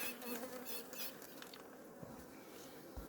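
Honey bees drone steadily around an open hive while frames are sprayed, a dense close buzzing that persists throughout with a few faint handling knocks.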